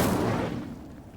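A fire spell, Incendio, cast in Hogwarts Legacy: a single sharp burst of flame with a crackling whoosh that swells loudly at the onset and then fades over about a second, with no voices.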